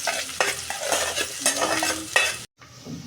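Chopped onion and green chillies are stir-fried in hot oil for a mutton curry, with busy sizzling and repeated spatula scrapes against the pan up close, cut off by a brief silence before a quieter stretch.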